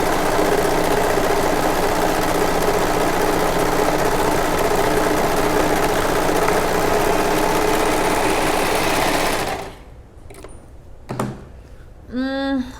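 A serger overlock sewing machine runs steadily stitching straight fabric for about nine seconds, a loud continuous mechanical whir, then stops abruptly, leaving faint handling noises and a short voice.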